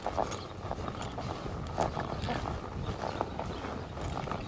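A frustrated mare being schooled walks with hooves clip-clopping in an uneven rhythm, fairly faint against a constant background rumble, with no talk over it.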